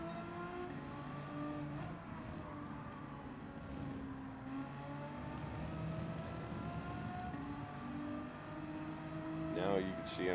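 Race cars lapping Brands Hatch in Gran Turismo 7, engines droning and shifting pitch continuously at moderate distance, with a brief rise in revs near the end.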